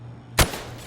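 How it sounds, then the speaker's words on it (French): A single sharp gunshot from a rifle at a firing range in Call of Duty: Modern Warfare Remastered, loud and close, one crack with a brief decaying tail over a faint low hum. "Maintenant, tire sur les cibles en utilisant la visée normale."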